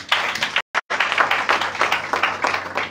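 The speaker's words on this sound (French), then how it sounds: "On va vous applaudir, chères femmes." Women's day gathering audience applauding the women of an international network, a dense, steady wash of many hands clapping near and loud, broken by a brief silent gap.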